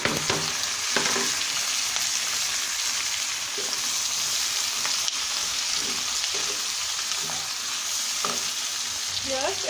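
Mixed vegetables stir-frying in a hot pan with chopped onion for a Chinese-style mixed vegetable dish: a loud, steady sizzle runs throughout, broken by repeated scraping taps of stirring.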